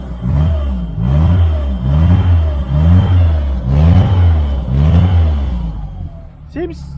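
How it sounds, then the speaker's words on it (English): An A-series engine in a Turner Ranger minibus, fitted with a sports pancake air filter and not yet fully warm, is revved by hand throttle in about six rhythmic surges that rise and fall, loud and close. "let's give it a quick flip of the throttle. It's got a hand throttle."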